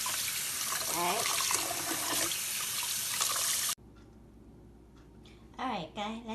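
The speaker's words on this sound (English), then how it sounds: "So, I'm rinsing with the cold water." Cold tap water gushes loudly over boiled noodles being rinsed in a kitchen sink, then cuts off abruptly, leaving a quieter room where someone talks.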